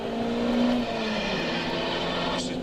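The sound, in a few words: race cars exiting the infield hairpin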